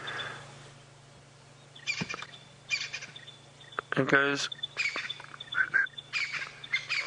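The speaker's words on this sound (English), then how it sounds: "Now there's a beautiful little bird calling." A tiny wren warbler gives short, repeated metallic chirping calls in bursts from nearby brush during an early-morning safari drive, over a low engine hum, with a brief voice in the middle.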